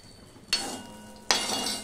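Potatoes frying in oil in a kadai for bhoger khichuri, stirred with two abrupt scraping strokes that each open into a broad sustained sizzle, close and moderately loud, with no talk.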